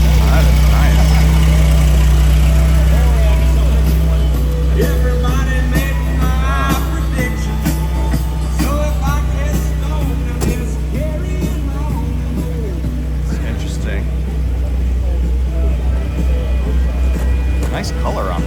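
Steady engine running on an air-cooled Porsche Turbo S Targa at a car show, a constant low throbbing idle heard up close under lively chatter from onlookers.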